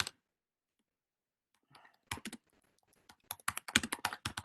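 Typing on a computer keyboard: after a short click and a silence, quiet taps give way to a quick, irregular run of crisp keystrokes, close and clear with no talking.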